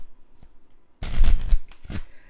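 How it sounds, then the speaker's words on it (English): Playing cards shuffled by hand, a dense burst of riffling and fluttering card noise lasting about a second, loud and close, followed by a couple of quieter card taps. "I'll give the cards a shuffle"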